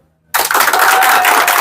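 An audience at a gathering bursts into sudden, loud, sustained clapping after a moment of silence, many hands applauding together without talk.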